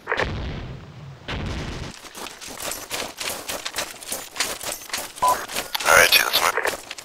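Grenade and gunfire blasts in Arma 2 combat, a dense run of sharp, loud bursts and booms through the clip with a heavier cluster near the end, under shouting voices.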